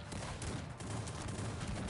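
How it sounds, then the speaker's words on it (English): Cannons firing shrapnel shot in the Cossacks 3 strategy game, a dense continuous clatter of overlapping battle fire, steady and distant-sounding, within a busy wash of combat noise. "The cannons are just trying to shrapnel each other."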